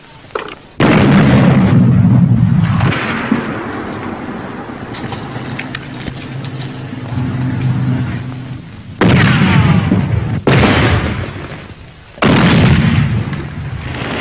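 Weapons fire on a patrol in a 1983 army training film: loud, sustained rumbling blasts and heavy gunfire roar in long continuous stretches, broken by several abrupt renewed bursts, with no clear talk.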